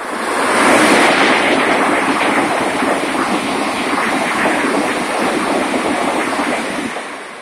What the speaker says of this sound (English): Shinkansen at Shinfuji Station.